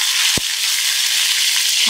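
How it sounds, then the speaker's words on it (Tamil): Mustard seeds and urad dal sizzle in two spoons of hot sesame oil for a Tamil tempering, with a loud, steady hiss and one sharp pop early on. "கடுகு வெடிக்கட்டும்."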